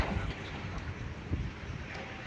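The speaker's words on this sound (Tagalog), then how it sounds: "Malakas lang hangin ngayon," Strong wind in the Lusail area near a stadium buffets the microphone with a constant low rumble and broad roar throughout, steady and loud with no other sounds standing out.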